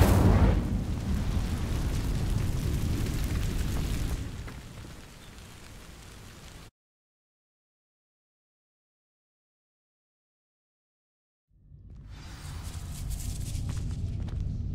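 An Incendio fire spell sets dry vines ablaze in Hogwarts Legacy, a loud rushing roar of flame with a low booming body, fading out, then several seconds of silence before a crackling burn returns.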